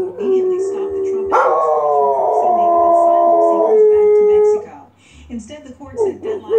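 A hound dog lets out a long, loud, close howl that rises and holds a sustained wavering tone, then trails off into shorter yips and whines.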